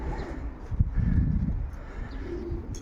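A racing pigeon coos softly at a loft, a few low throaty calls close by with faint background ambience and no talk.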